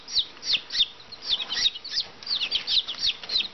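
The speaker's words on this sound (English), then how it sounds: "It's a very calm little bird." A Brahma chicken being held gives a rapid series of soft, high clucks and chirps, close and evenly repeated throughout.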